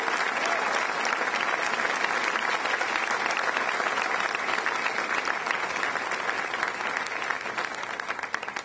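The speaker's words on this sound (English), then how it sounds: "please give Dr. Brady Deaton one more big round of applause for his great job" An audience at a university press conference gives sustained, dense applause, loud and even throughout with no pauses.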